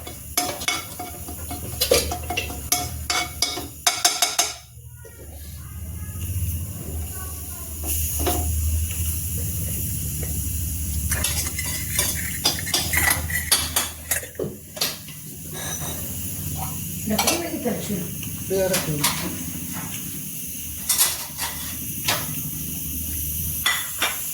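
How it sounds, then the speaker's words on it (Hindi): Cumin seeds temper in hot oil with a hissing crackle, mixed with clinks and scrapes of utensils against a pan. The sound runs near and fairly loud, with intermittent taps and a brief quiet gap early on. "देखिए जीरा, ये देखिए जीरा जैसे तड़केगा"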